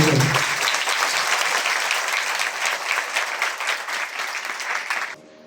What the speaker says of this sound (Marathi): सर्वांनी मोठ्या टाळ्यांच्या गजरामध्ये टाळ्या